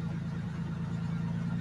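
Ford Ranger pickup with a straight-pipe exhaust idling, a loud, steady, deep rumble with a faint hint of an uneven misfire, no voices.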